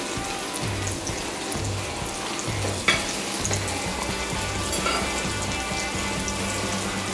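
A spiced mango mixture simmering in a pan gives a continuous close bubbling sizzle, with a soft bump partway through and a low intermittent hum underneath, and no voices.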